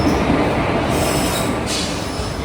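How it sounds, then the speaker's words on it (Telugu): The Guntur–Aurangabad Express train rumbles and clatters past loud and close, with a high squeal of wheels on the rails rising over the roar. "అదే మనం జర్నీ చేయబోతున్న ట్రైన్ గుంటూరు ఔరంగాబాద్ ఎక్స్ప్రెస్"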